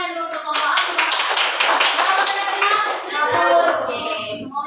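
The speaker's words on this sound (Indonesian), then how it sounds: "Tepuk tangan dulu untuk kelompok A." A classroom of students claps for a presenting group, with brisk, dense hand claps close by that build quickly and carry on for several seconds, while some voices chatter underneath.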